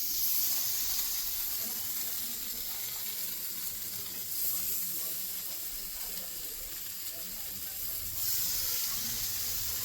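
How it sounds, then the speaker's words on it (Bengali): Paneer tikka pieces frying in butter on a hot tawa give a steady, bright sizzle throughout, moderately close, with brief surges as the pieces settle on the pan. "তাওয়াতে সামান্য বাটার দিয়ে দিয়েছি, এবার টিক্কাগুলো দিয়ে দেবো"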